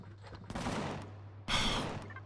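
A companion character fires guns at creatures in the space survival game Empyrion Galactic Survival: two loud bursts of gunfire, each rattling on for about half a second to a second, with a steady low hum between them.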